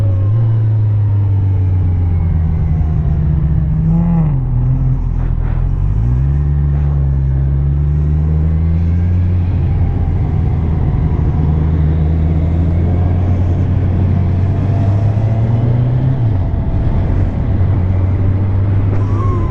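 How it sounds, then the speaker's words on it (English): A Kawasaki Ninja 1000 SX motorcycle engine drones loudly while riding, its pitch rising and dropping with several throttle blips and gear changes, heard close amid wind rumble. "I'm getting the hang of blipping now."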